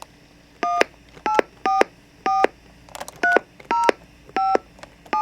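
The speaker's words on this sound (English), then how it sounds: "why don't we call that phone number right now and see what exactly happens" A telephone keypad beeps out a number as a sequence of about nine crisp two-tone DTMF presses, evenly spaced and close, with a faint clatter in between.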